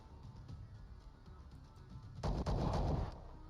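A quiet background ticks along before a loud burst of gunfire erupts about two-thirds through in the Star Traders: Frontiers game. The burst lasts nearly a second and then drops back to a low hum.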